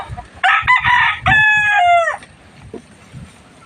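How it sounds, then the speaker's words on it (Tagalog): Gamefowl broodcock rooster crowing nearby: one loud, drawn-out crow in broken segments, followed by quieter clucking and faint background noise. "Mga alaga nating warrior. Broodcock natin yan."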